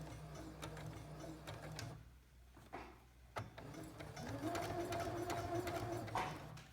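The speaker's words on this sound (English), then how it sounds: "right here I'm going to backspace it, back stitch, backspace" A sewing machine runs in bursts while back stitching a seam on a rag doll, pausing briefly before a longer steady run of rapid needle clatter, close and moderately quiet.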